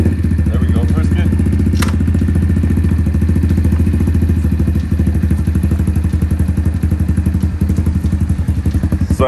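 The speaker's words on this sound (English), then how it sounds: "Cold start, baby. It needs a carburetor adjusted for sure. It only runs on choke." An Apollo 125 pit bike engine idles after a cold start on choke, a loud, close, steady single-cylinder putter with a fast regular pulse and light mechanical clatter, and a voice talks over it.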